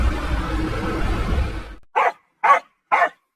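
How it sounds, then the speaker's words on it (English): A dog barks three times in a sharp, evenly spaced sequence, loud and distinct, right after a rumbling car engine fades away. "The dog had started barking."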